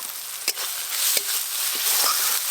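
Ground chili, cumin and coriander powders fry in a pan for a vegetarian papad curry, making a steady bright sizzle that swells slightly, with a few soft stirring knocks. It is close, with no voices.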